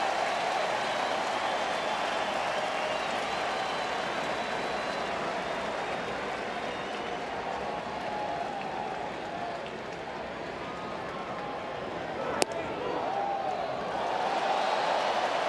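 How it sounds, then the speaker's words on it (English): Baseball stadium crowd at a Cincinnati Reds game lets out a broad, sustained murmur of oohs and ahs, a diffuse roar of many voices with one sharp crack near the end. "Crowd oohs and ahs."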